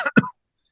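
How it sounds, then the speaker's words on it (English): A single short cough close to the microphone during a podcast interview, an abrupt throaty burst followed by silence. "I'm trying not to cough here."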